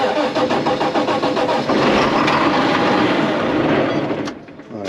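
A diesel engine on a Challenger tractor cranks and fires, rapid rhythmic chugging that settles into a loud rough running, close by, before dropping off near the end.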